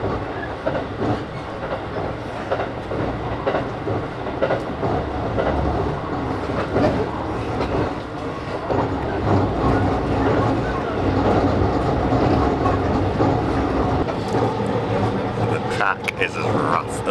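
A Choshi Electric Railway train rides over rough rural track with a continuous rumbling, rattling roar and irregular clattering bumps, close and steady throughout, with faint talk underneath.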